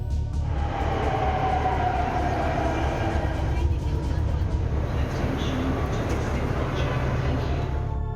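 A Delhi Metro train runs with a steady, loud rumble throughout, a continuous rolling roar of wheels and carriage noise with no clear pauses.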